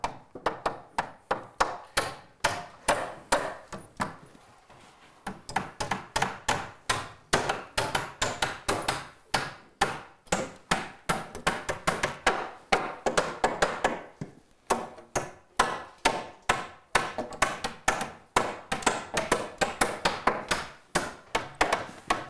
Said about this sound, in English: definitely want to nail the bottom first, and then once we get that secured, we'll plumb the wall